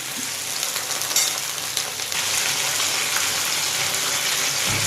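Apple achar fries in a pan while being stirred, a steady close sizzle with a light crackle and occasional scraping, no talking.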